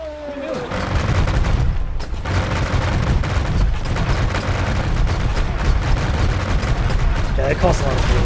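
Siege weapons fire in a video game with dense, overlapping booming blasts and rumbling impacts that carry on continuously at high volume, a battle din with occasional voices mixed in.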